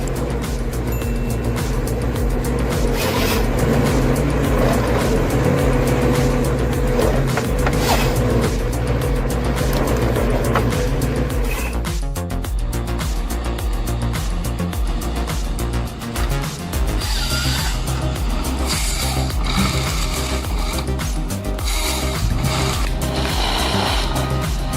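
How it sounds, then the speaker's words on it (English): A 2018 Ponsse Fox forestry harvester with 180 kN torque works through a snowy forest felling trees, its loud, steady engine drone layered with clanking machinery that shifts in character partway through. "The Pons Fox 2018 Sadoza, with 180 kilonewtons torque, glides through the snowy forest, felling towering trees."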